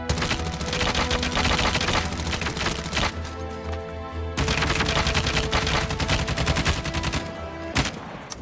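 Hip-fire gunshots in the video game Call of Duty Mobile, loud rapid automatic bursts that break off for about a second before the firing resumes, ending in a final shot.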